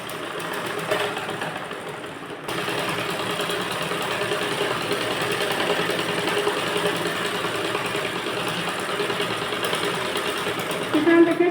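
A sewing machine runs a straight seam down one side of a blouse panel after the sleeve has been joined, its steady mechanical whir continuing almost unbroken from near to far end with a short pause early on.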